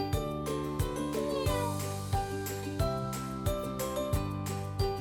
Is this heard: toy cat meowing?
yes